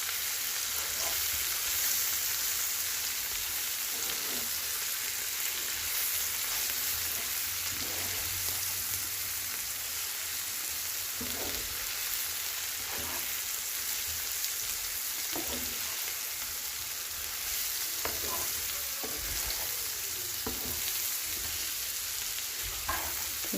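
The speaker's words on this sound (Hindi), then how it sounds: "चूल्हा थोड़ा कम कर देते हैं और हल्का हल्का ये फ्राई है" Okra fries gently in a pan over a low flame, a long even sizzle broken every few seconds by soft stirring clicks and scrapes, with no voices.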